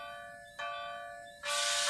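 A ringing bell with sustained tones, struck again twice so the clang swells louder each time, bright and resonant.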